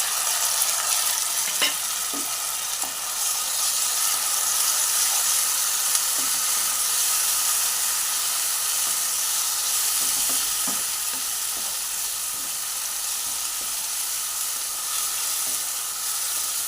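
Tomato paste going into a hot pan of potol dolma, a steady bright sizzle and hiss with occasional light stirring clicks, close and continuous throughout.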